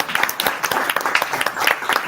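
Audience applause closing a Pint of Science evening talk, a dense patter of many hands clapping at steady loudness through the whole stretch.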